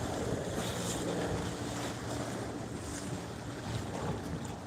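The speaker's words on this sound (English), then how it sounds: "strong waves and very strong wind." Strong wind and waves along the Lake Ontario waterfront in Toronto, a dense continuous rumble of gusting wind buffeting the microphone over churning surf, loud and close with no talk.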